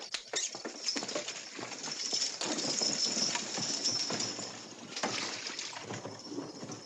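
A horse pulling a sulky clip-clops at a steady pace on a Western frontier trail, the hoofbeats moderately loud and continuous with no voices over them.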